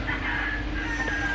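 Tethered fighting cocks in the Philippines crow and cluck close by, a dense continuous barnyard din that fills the whole moment without any voices.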